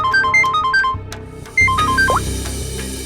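A phone rings for an incoming call with a quick melodic electronic ringtone, its notes repeating in short phrases, loud and close over a low background hum.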